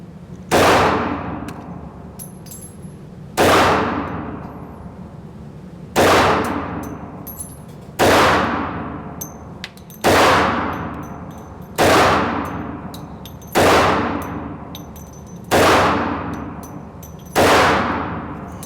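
Ten-millimeter Hi-Point 1095TS carbine fires eight evenly spaced loud shots about every two and a half seconds at 20 yards. Each report decays into a short ringing tail from struck steel targets.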